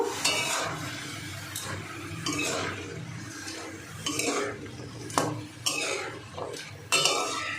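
Water lily stems and shrimp are stirred together in a pan over high heat for a garlicky Bengali dish. Repeated close scraping and clattering strokes of a utensil against the pan are punctuated by soft, moist sizzling.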